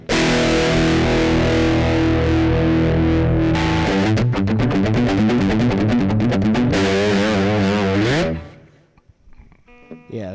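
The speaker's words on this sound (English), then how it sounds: "Yeah, that's a pretty cool sound with a humbucker, which for high gain, I guess, can be expected." Electric guitar played through a humbucker pickup with high-gain distortion: a sustained chord rings out, then fast chugging riffs and shifting notes follow, loud and close, before cutting off abruptly into near silence.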